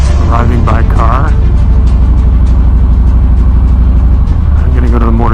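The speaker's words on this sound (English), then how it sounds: "People arriving by car." Cars pulling up and idling outside the Harley-Davidson Museum, a steady low engine rumble with passing vehicle noise throughout, while people talk over it.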